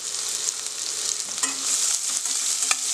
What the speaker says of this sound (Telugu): ఇది కూడా వేసి ఒకసారి ఉల్లిపాయ బాగా వేగాలి